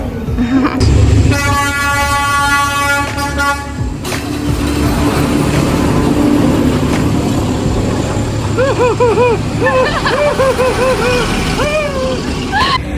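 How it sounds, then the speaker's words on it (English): A train in Vietnam rumbles past close by with a steady horn blast, followed by more sustained honking tones over the ongoing rolling noise. "The train's coming."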